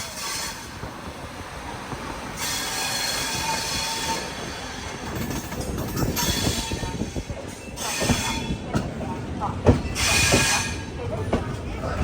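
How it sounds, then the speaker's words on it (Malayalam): Netravati Express sleeper train rolling into Ratnagiri station, a broad steady rumble of wheels and carriages with squealing wheel tones and platform bustle, loud and close throughout. "ട്രെയിൻ എങ്ങനെ രത്നാഗിരി സ്റ്റേഷനിലേക്ക് ഇതാ എത്തിക്കൊണ്ടിരിക്കുകയാണ്"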